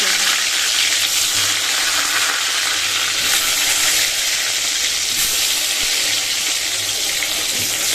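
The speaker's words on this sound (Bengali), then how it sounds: "চলো এখন ভেজে নিই বেগুনটা তেল তেল গরম হয়ে গেছে" Brinjal pieces frying in hot oil make a loud, continuous hissing sizzle that stays close and steady throughout without a break.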